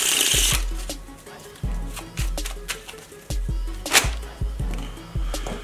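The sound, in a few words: shuffling a deck of playing cards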